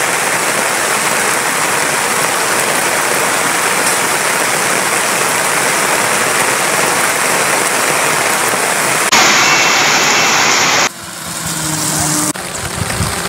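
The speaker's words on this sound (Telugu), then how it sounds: "భారీ వర్షానికి రాత్రి 9 గంటలకు స్టార్ట్ అయిన వర్షం ఇంకా 6 గంటలకు వర్షం పడుతుంది." Heavy overnight rain pours onto a maize field in Telangana, a dense, steady hiss lasting most of the clip before it shifts, with a low mechanical hum and rustling near the end.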